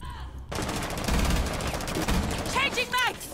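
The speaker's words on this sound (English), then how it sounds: "looks like I have an SMG primary." SMG gunfire in the Rainbow Six Siege video game comes as a sudden, sustained rapid burst of close, loud shots lasting about three seconds. A voice speaks briefly before the firing starts.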